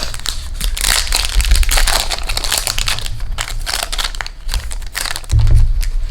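A Yu-Gi-Oh booster pack's foil wrapper crinkles and crunches steadily as it is opened, a loud, close crackling texture running throughout with a few heavier rustles.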